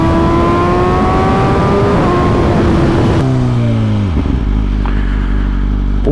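Big-engined upright motorcycle revving hard, a loud sustained roar with rising then falling pitch before dropping to a deep rumbling idle, close and alone.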